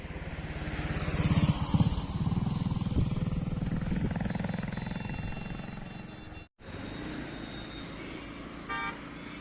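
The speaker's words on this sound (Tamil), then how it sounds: "பாருங்க, கர்நாடகா வண்டி ஒன்று வேகமாக போகுது." A Karnataka-registered vehicle speeds along the road toward Hogenakkal in Dharmapuri district: a steady, loud engine and road roar sweeps through, broken by a brief dropout, with a short horn toot near the end.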